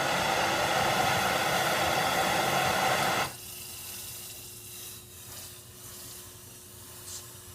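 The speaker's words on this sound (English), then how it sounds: "Giving it a little dip in water." A red-hot blade forged from rebar is quenched in water: a loud, steady hiss of sizzling steam for about three seconds that cuts off abruptly, leaving a quiet, low background with a faint hum.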